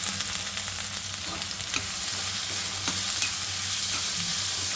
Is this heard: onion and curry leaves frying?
yes